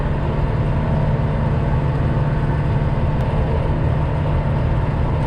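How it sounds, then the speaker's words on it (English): A tractor clearing heavy record snowfall runs steadily throughout, a constant low engine drone with no pauses, fairly loud and close, with no voices over it. "You guys listen closely, you'll hear the tractor"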